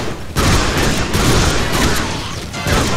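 Sustained gunfire from the Deadpool video game, with dense bursts of shots and crashes running almost without pause at close range.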